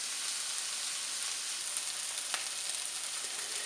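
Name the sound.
bacon and onions sizzling in a pan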